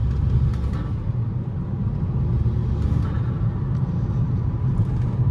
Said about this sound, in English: just cruising down the road, this car does pretty well. It makes cool noises.